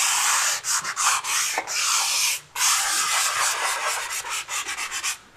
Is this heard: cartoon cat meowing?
no